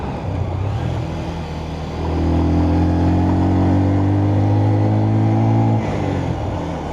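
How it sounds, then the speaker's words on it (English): Underpowered motorcycle engine running on dirty fuel in Nepal, a close, steady drone that swells and holds a higher revving tone for a few seconds before easing back. "There's definitely something wrong with this engine, man."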